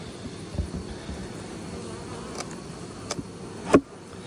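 Honeybees buzz around nuc hives during a hive inspection, a soft, steady drone with a few brief louder passes close by and a sharp knock near the end.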